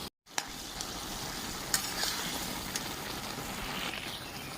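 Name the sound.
stirring bottle gourd and prawn curry in a pan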